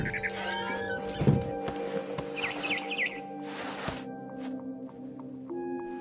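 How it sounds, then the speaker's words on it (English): Barn swallow chirping outside a window in the game What Remains of Edith Finch, several quick bright twittering bursts near and clear over a low steady ambient hum. "Then I heard chirping outside my window. It was a barn swallow going back to her nest."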